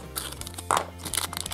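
A plastic packet of fruit snacks crinkles and rustles in hand during an unboxing, short crisp crackles with one sharper crunch, close and fairly quiet.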